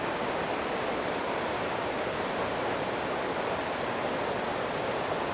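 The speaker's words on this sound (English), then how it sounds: "These waterfalls just keep going and going." The Black Waterfalls of Rhaeadr Ddu pour in a constant, full-bodied hiss and rumble of cascading water, steady and unbroken throughout with no voices.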